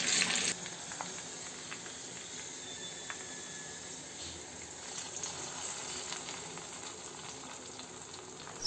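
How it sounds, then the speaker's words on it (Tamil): Mustard seeds, curry leaves and onion frying in hot oil for a tempering poured into a home-style cowpea kulambu, a steady close sizzle that holds evenly throughout with a sharper burst at the start. "கடுகு, கருவேப்பிலை போட்டு வெங்காயம் போட்டுட்டு நல்லா கோல்டன் ப்ரௌன் கலரில் வந்த பின்னாடி அதை குழம்புல ஊற்றுறேன்."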